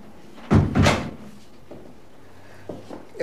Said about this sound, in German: Mach die Tür zu.